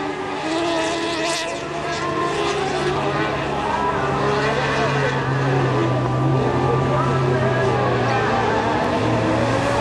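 Kart cross racing karts roar past in qualifying at Saint-Jean-Brévelay, including kart 172, their engines droning loud and steady throughout with continuous buzzing overlap, while a commentator talks over the racket.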